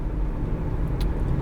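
Steady interior road rumble of a Hyundai Elantra cruising on a highway, a constant low drone of engine and tire noise without speech or distinct events.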